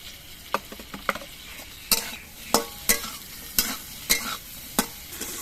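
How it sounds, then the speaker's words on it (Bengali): Pointed gourd (patol) pieces frying in a pan with a little salt: a loud, close sizzle punctuated by sharp, regular scrapes and clacks of a spatula stirring, roughly twice a second, with no talking. "পটলটা ভাজার সময় অল্প একটু নুন দিয়ে দিচ্ছি"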